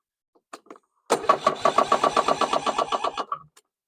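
A freshly reassembled lawn mower engine with a newly installed starter and connected battery cranks in a fast, even run of pulses for about two seconds before cutting off, with a couple of light clicks just before it.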